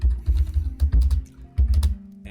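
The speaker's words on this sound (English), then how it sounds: "Guess I'll type it up." Fingers type on a computer keyboard in quick, uneven bursts of clicking keys, close by with no talking.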